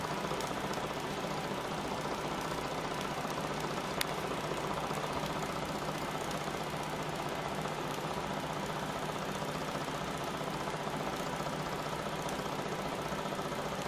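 An oscillating steam engine runs smoothly, giving a steady, even mechanical hum with a fine rapid pulse throughout, close and constant with no talk.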